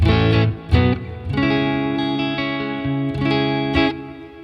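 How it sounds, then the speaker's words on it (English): Clean electric guitar chords ring out through an amp, strummed several times and left to sustain, bright and undistorted. "listen to this clean tone. Sounds great."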